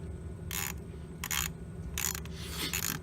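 A ratchet with a T30 Torx extension loosens a spark plug on a 2.4L Jeep Patriot, giving four short bursts of clicking pawl ratcheting separated by brief pauses, over a low background hum.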